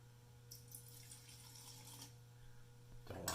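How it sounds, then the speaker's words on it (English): Denatured alcohol is poured in a faint, short trickle into a cup under a low steady hum, with a brief louder clatter at the end. "I'm going to pour some denatured alcohol, as you can see right here. Pour some, just a little bit into a cup."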